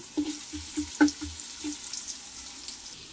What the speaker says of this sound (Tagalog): ngayon pa lang po tayo magigisa ng bawang